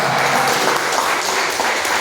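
Church congregation applauding in praise, a dense steady wash of many hands clapping together at close range, filling the whole moment without voices on top.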